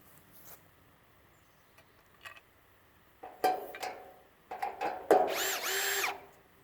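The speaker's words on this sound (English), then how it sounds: "I am using this battery powered drill now." A battery-powered drill driving fasteners while assembling a Hampton Bay Chelsea Point gazebo, with faint clicks and taps, then short whirring bursts that grow into a sustained, close, loud run at the end.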